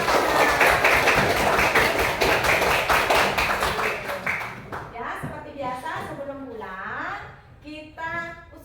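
A classroom of children claps together in a quick, loud, steady burst of applause for themselves that fades after about four seconds, followed by someone speaking and children answering.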